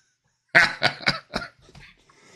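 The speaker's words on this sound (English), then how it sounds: "Oh, I laughed too hard. Coughing." A man coughs after a hard laugh, giving a loud cluster of four or five harsh coughs that tail off into softer wheezy breaths, close and alone with no speech.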